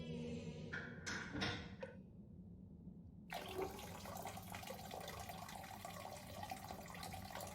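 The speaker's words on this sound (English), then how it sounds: "Sounds like the shower is playing up." A shower in the video game Harold Halibut hisses with running water. It sputters in uneven bursts at first, goes quiet briefly, then settles into a steady close spray.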